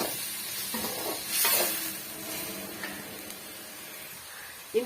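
Ground tomato paste stirred into chicken masala in a pan: a hissing sizzle with scraping stirs and a louder burst of spitting steam midway, close and moderately loud, no talk.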